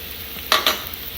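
Paratha cooking in desi ghee on a tawa griddle and being turned over, two short close sizzling bursts as it is flipped, with a faint frying hiss beneath.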